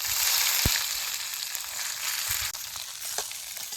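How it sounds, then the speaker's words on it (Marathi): Chopped onion dropped into hot oil already tempered with mustard seeds, cumin and bay leaf, giving a loud broad hissing sizzle that holds steady, with a couple of faint utensil knocks and no talk. "आता हे चिरलेला कांदा त्यात टाकायचा"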